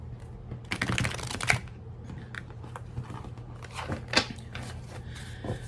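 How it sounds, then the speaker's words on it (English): A deck of tarot cards is shuffled close up, giving quick papery riffles and flutters in short bursts with soft taps and pauses between them. A faint low hum runs underneath and no one talks. "Let me shuffle this one more time."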